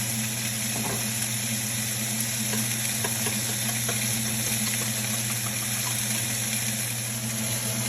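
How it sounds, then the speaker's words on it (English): Chicken for Louisiana gumbo fries in a big pot, giving off a steady, dense sizzle and crackle with faint stirring clicks, close and continuous with no voices. "The chicken is frying down in the big pot."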